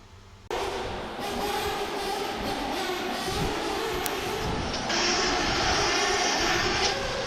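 A Sanwa-controlled radio-controlled car engine warming up, running loud and steady close by with a constant buzzing drone that steps up slightly partway through.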